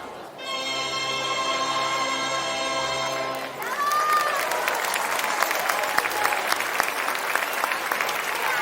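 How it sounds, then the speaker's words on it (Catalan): Crowd applause at a folk dance festival, the canuts dance during a town's Festa Major in Agramunt, bursts in loudly after a sustained tonal musical note ends, continuing as dense, bright clapping. "Un fort aplaudiment per aquestes"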